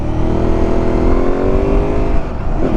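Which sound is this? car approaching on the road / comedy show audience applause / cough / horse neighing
car approaching on the road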